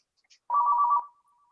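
Phone ringtone sounding during an online senior tech program meeting, a single steady electronic tone burst of about half a second followed by a faint trailing echo, heard alone without talk.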